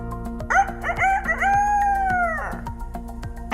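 A voice imitates a rooster crowing, a drawn-out rising and falling call over a steady rhythmic backing beat in an English vocabulary lesson about farm animals.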